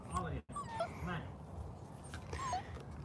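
A golden retriever whimpers and gives short yips outdoors, high thin whines coming in brief bursts while a person talks over it nearby.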